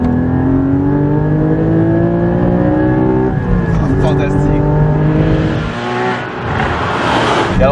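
A Porsche Cayman GT4 engine revving and accelerating, a loud, steady, harmonic-rich roar climbing in pitch, then briefly dipping before rising again, with speech heard over it.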